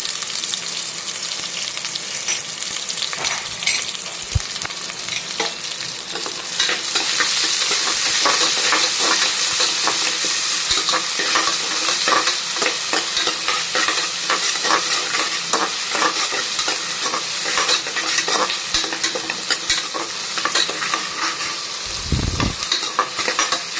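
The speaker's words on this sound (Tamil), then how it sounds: "இந்த டைம் நம்ம நீளமாக கட் பண்ணி வச்சுருக்கிற வெங்காயத்தை போட்டு நல்லா வதக்கிக்கோங்க" Long-sliced onions fry in hot oil with curry leaves in a pan, giving a steady sizzle that swells as they are stirred, with occasional scrapes and clinks of the spoon, close and without speech.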